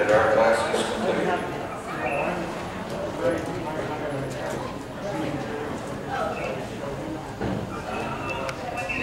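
Horse hooves clip-clopping in a show arena at a junior horse class, a soft uneven patter under a loud announcer's voice throughout.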